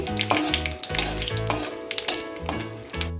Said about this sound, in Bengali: সর্ষেটা একটু ভেজে নিচ্ছি